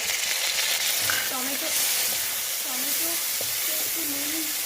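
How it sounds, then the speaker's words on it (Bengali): Tomatoes hit onions already frying in a pan and set off a steady, loud sizzling hiss that carries on without a break, with a faint voice briefly audible in the background. "পেঁয়াজটা আমার ভাজা হয়ে গেছে। এবার আমি এর মধ্যে টমেটো"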